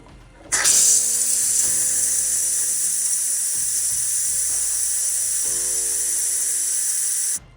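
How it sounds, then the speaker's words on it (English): A pressure cooker's quick release, with a loud, steady hiss of steam that bursts on suddenly and keeps venting for about seven seconds. Faint clanks and rattles sit underneath it, and no one talks. "Now I'm gonna do a quick release."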